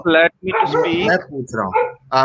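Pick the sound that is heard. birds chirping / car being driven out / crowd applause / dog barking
dog barking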